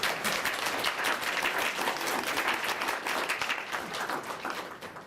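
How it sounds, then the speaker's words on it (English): Audience applause for animal control workers at a town hall on animal abuse, a dense wash of many hands clapping steadily for about five seconds before thinning slightly at the end. "I really think that we need to give a hand of applause"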